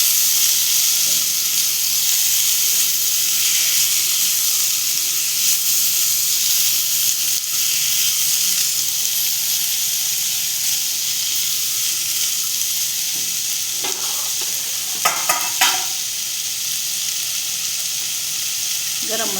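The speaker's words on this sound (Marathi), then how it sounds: "व्यवस्थित तिला आपण एकत्र करायचे, जेणेकरून त्याला सगळ्या भाजीला मसाला लागला पाहिजे." Chopped ivy gourd and val beans fry with masala in a pan, a steady close sizzle running throughout, with a few scraping stirs of a spoon toward the end.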